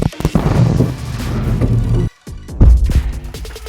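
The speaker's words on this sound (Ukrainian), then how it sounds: "Постріл!" An artillery gun fires: a loud booming blast with a sharp attack, a brief drop to near silence, then a second heavy report and rumbling echo. No talking.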